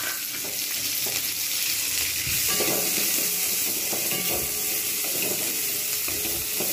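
Spices tempering in hot oil for egg tadka, a dense continuous sizzle and crackle with occasional spoon clinks, close and steady throughout.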